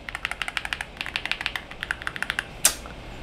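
Fast, crisp keystrokes on a VTER Galaxy80 aluminium mechanical keyboard, a steady run of close, bright clicks followed by one sharper, louder clack near the end.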